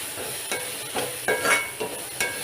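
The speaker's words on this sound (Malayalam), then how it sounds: "പച്ചമുളക് ഇട്ടു. എന്നിട്ട് നല്ലപോലെ വഴറ്റി" Green chillies sauté in hot oil in a pan for a shrimp roast, a soft continuous sizzle broken by about five quick, regular scraping stirs of a spoon, close by and without speech.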